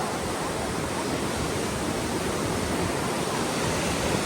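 Tinduan Waterfalls in Don Victoriano, Misamis Occidental, a steady broadband roar of falling water, close and constant with no pauses.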